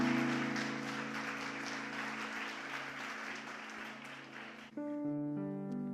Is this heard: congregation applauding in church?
yes